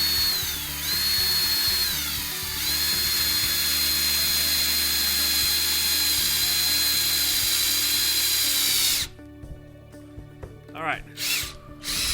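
A Hyper Tough 20 volt cordless drill runs loud and close with a steady high whine for about nine seconds, briefly dipping early on, then stops, followed by a short spoken remark and light handling noises.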